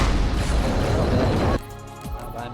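Grenade explosions go off in the video game Halo 2, a loud, sustained blast that cuts off abruptly and gives way to quieter game sounds.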